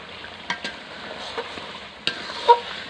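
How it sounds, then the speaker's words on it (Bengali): Poultry chicken and spices being stir-fried in a pan over a smoky village stove, with a few distinct scraping stir strokes over a soft, steady sizzle. "এই যে মশলা দেয়া শেষ, এখন কষাইতেছি।"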